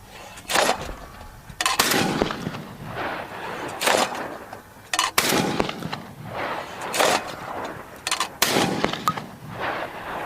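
Semi-automatic shotgun rounds fired at a shooting range from a Beretta A400 Extreme Unico or a Remington Versa Max, a series of about ten loud, sharp, booming blasts in quick, irregular succession with reverberating tails.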